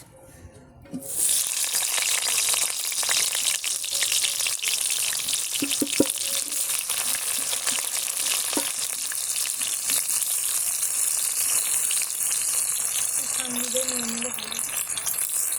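Onions frying in oil for a Bengali chicken curry, a loud, continuous sizzle that starts abruptly and keeps going, with faint voices talking underneath.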